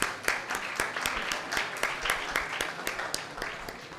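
A panel-discussion audience gives a steady round of applause, with a few distinct sharp claps cutting through the dense clapping, moderately loud and fairly even throughout.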